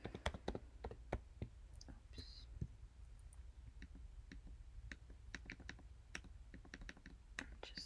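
Typing on a computer keyboard while working on a Python script, faint close clicking keystrokes coming in irregular bursts and clusters, with soft low whispered-level background noise.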